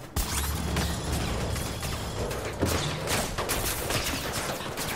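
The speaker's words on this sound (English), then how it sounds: "Shooting." Gunfire in the first-person parkour game Mirror's Edge Catalyst: dense rapid volleys of shots and metallic impacts crackle continuously for several seconds amid game noise.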